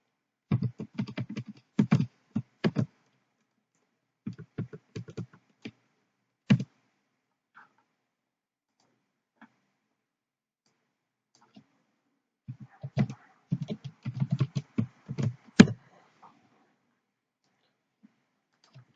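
Bursts of typing on a computer keyboard as a spreadsheet formula is entered, crisp close key clicks in quick clusters separated by silent pauses, with no voices.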